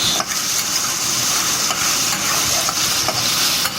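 Dense, close sizzling of meatless meatballs frying in a pan, with a steady crackle and occasional scraping stir sounds, no voices.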